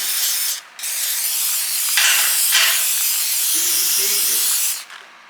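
WD-40 sprayed from an aerosol can while an engine is fitted into an M3-swapped Datsun 280Z: a loud, steady, close hiss in long bursts with a short break near the start, then cutting off at the end.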